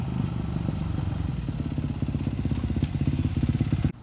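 A Yamaha FZ-09 motorcycle with an M4 slip-on exhaust and its baffle removed idles and revs nearby, a loud, deep, rapidly pulsing engine rumble with crackly exhaust bursts that cuts off abruptly near the end.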